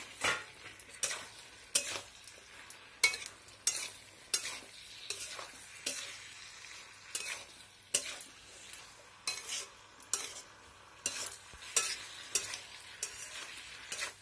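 Beans and radish curry is stirred in a pan with a spatula. Regular scraping strokes about once a second sit over a faint background sizzle, close and fairly quiet.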